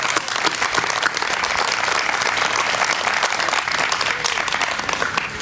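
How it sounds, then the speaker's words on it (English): Loud, steady applause from an audience gathered for an elementary school ribbon-cutting ceremony, dense clapping that carries evenly across the whole stretch without a break. "So just a huge round of applause for this."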